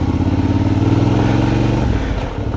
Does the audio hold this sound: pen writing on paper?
no